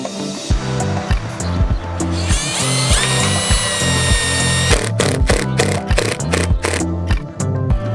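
A power drill drives screws into a roof while fitting a tiny wood stove chimney, giving repeated ratcheting bursts and whirring spins, loud and close, with no talking.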